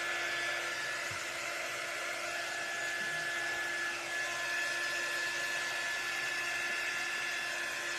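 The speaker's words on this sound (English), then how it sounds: "now these dryers have a 6-foot cord" Handheld hair dryer blowing to dry paint on a handmade highland cow craft sign, a steady, even whine and whoosh running continuously at moderate level with no speech.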